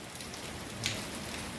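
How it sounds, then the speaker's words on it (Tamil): Heavy, sudden rain falling around a house, a constant close hiss of drops with one brief, brighter splash partway through. "எங்கள் வீட்டுக்கிட்டலாம் ஒரே மழை சடனாக"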